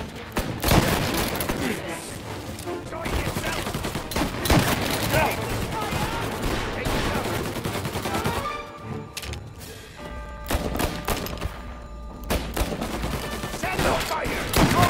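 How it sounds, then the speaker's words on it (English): Gunfire in a shootout from the video game Mafia Definitive Edition, dense bursts of shots and impacts crackling almost nonstop, mixed with game music and shouted voices, thinning briefly before more shots resume. "All on-duty officers, gunshots being reported."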